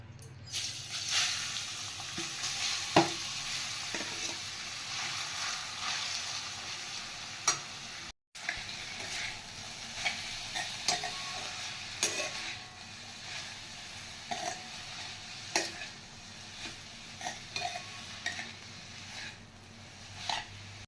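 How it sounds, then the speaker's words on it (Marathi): Grated mango frying in ghee in a kadai, a continuous soft sizzle broken by occasional stirring clicks and scrapes, with one brief dropout partway through and no speech. "आता आपण हा किस या तुपामध्ये छान फ्राय करून घेऊ"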